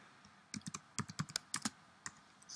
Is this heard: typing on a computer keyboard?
yes